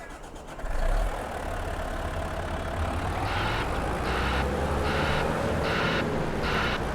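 A wheel loader engine idles in the video game Farming Simulator 22, a steady, close mechanical drone that rises briefly at the start, and a regular series of five beeps sounds over it.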